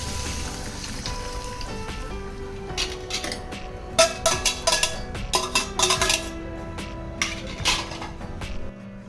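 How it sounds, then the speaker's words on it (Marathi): Cooked dal being tipped from a vessel into a pan of cooked tomato and spices, with a cluster of metallic scrapes and clinks of utensils against the pan and wet splattering, fairly close, with no talking. "आता आपण यामध्ये घालूयात शिजलेली डाळ"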